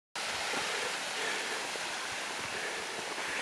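A river flowing beside a woodland trail and bridge, a loud, close, steady rushing wash of water that starts abruptly and continues unbroken, with no voices.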